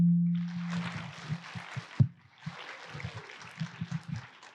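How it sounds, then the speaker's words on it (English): Round of applause for a sheikh at an Islamic community event with Sh Yasir Qadhi and Sh Abdullah Waheed, a broadband clapping wash that swells, briefly breaks, then resumes with scattered low thumps and voices mixed in. "Can we get a round of applause for Sheikh?"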